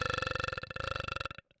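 A horse in a video game lets out a loud, close burp, a rapid pulsing croak lasting about a second and a half that ends abruptly, followed by a faint short trailing blip.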